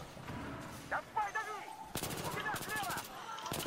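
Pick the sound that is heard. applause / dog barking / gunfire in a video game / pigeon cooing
gunfire in a video game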